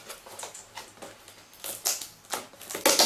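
Packaging around a Primark Dumbo snow globe is unwrapped by hand, giving soft irregular crinkles and sharper rustling bursts, close and moderately loud, with no talking.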